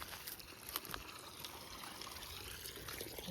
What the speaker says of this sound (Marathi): सोडलं आहे पाणी.